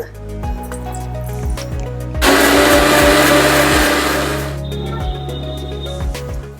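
A kitchen mixer grinder whirs loudly in one short burst of a couple of seconds, grinding drumstick leaves with half a spoon of cumin and a little water into a paste, set over steady background music with soft plucked notes.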